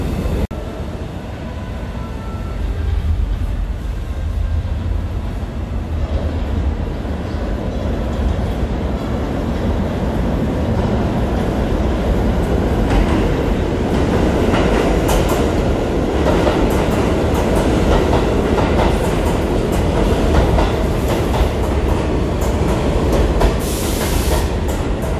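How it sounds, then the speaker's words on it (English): An E train on the New York subway's IND 8th Avenue Line rumbles steadily through Manhattan, with clattering wheels and rising, louder bursts of track noise toward the end. The sound is continuous and close, with no speech. "I'm gonna ride an E train next"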